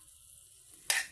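Liver with green leafy vegetables and a little soy sauce is stirred in a frying pan: near-silence, then a brief, sharp burst of sizzling near the end.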